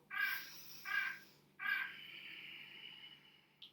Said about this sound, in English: Sorry for the bird clock interruption.